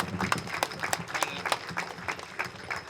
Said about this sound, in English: Everybody give Brent a round of applause.